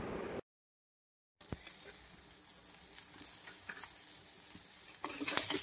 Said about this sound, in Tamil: எண்ணெய் காஞ்சதுக்கப்புறம் கசகசா, சோம்பு, வெங்காயம், பச்சை மிளகா, வெள்ளை பூண்டு, தேங்காய் போட்டு நல்லா வதக்கிக்கணும்.